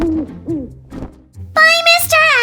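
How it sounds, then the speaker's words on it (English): A cartoon owl gives a couple of short hoots, followed by a loud, high-pitched voice-like call. "Oh, look! It's an owl!"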